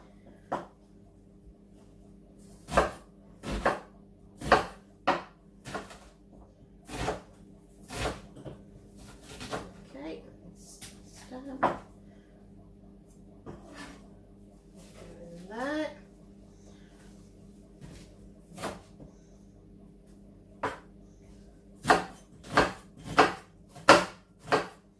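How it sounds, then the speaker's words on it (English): Knife chopping onions into chunky pieces on a board in a home kitchen, heard as clear, sharp repeated chops in irregular bursts, fairly close, with a brief voice partway through. "there's no great need to be too fussy about how the onions are chopped"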